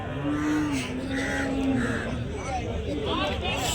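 A Punganur cow lets out a long, low moo over the hubbub of a busy cattle market crowd, with people talking nearby throughout.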